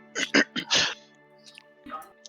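A person makes several short, sputtering mouth sounds in imitation of a fart during a tabletop game session, with a few quick bursts up front and fainter ones after a pause.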